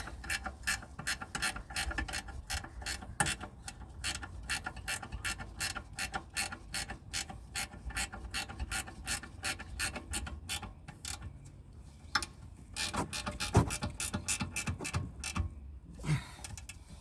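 A ratchet wrench turns a 13 mm brake caliper bolt on a Volkswagen Golf, rapid close clicks in steady runs with brief pauses and a few slower clicks near the end.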